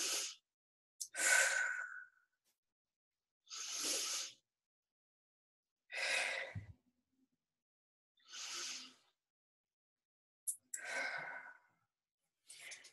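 Slow deep belly breathing in a breathing exercise, six long airy inhales and exhales separated by silent pauses, close and breathy with no talk.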